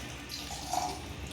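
Water poured to bathe a deity idol makes a faint, soft trickle and splash, with one brief brighter pour near the middle, set against quiet room noise.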